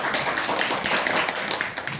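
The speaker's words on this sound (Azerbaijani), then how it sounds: "Afərin, alqışlayaq." An audience claps for a contestant at a proverb-guessing competition, a brief burst of dense, steady applause close by with no speech over it.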